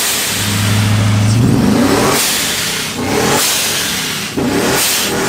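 A supercharged 6.2-litre V8 with a boost cam and a Kong blower revs loudly up close, with several sharp throttle blips and a rising whine.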